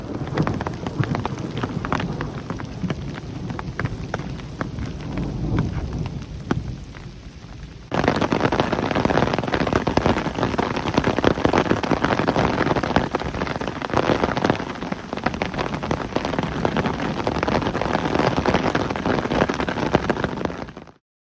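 Heavy desert thunderstorm rain drums loudly and continuously on an umbrella on the Pacific Crest Trail, a dense close hiss of drops that grows even heavier partway through, with wind and thunder underneath and no talking.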